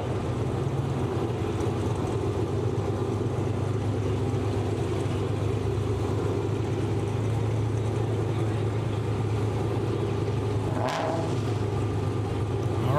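Drag race cars launching at a TX2k23 heavyweight eliminations event, a steady loud engine roar filling the whole stretch with a brief sharp burst near the end.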